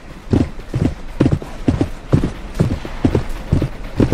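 Horse hooves gallop in the Roblox Westbound video game, a loud, steady, rhythmic clip-clop that repeats closely and evenly throughout with no talking.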